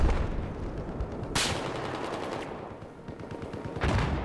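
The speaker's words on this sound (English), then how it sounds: "DMB taking out Cambo there with the shotgun" Shotgun blasts in a 12v12 multiplayer shooter match, with two loud sharp bangs standing out from a steady wash of ongoing gunfire and battle noise.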